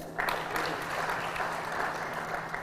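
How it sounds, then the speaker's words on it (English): A crowd at the Youth and Innovation Expo 2023 in Uganda breaks into applause, a sustained patter of many hands clapping at a fairly even level for the whole stretch, with a low steady hum underneath. "I thought you would applaud for that."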